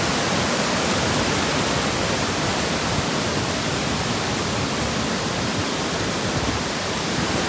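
A small waterfall rushes in a steady, dense, full-band roar of falling water, constant and close throughout with no other sounds standing out.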